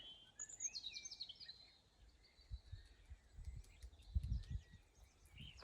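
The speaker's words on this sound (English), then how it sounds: "the birds are just singing" Small birds sing outdoors in a quiet evening garden, thin high chirps and warbles coming from a short way off, faint over low rustling and a few soft thumps.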